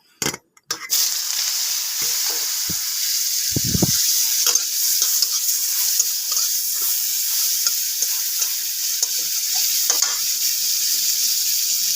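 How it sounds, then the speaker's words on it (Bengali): Dried fish (shutki) fries in hot oil in a wok, with a few clatters at the start and then a continuous, close, hissing sizzle dotted with scrapes from stirring, with no talking. "তেলটা গরম হয়ে গেল, আমি দিয়ে দেবো শুটকি মাছগুলো ভেজে নেব"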